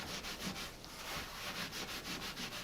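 Sponge dabbed with baking soda rubbed against a scuff mark on a painted wall, giving a steady, soft, close-up scrubbing hiss that repeats in quick rhythmic strokes with no talking.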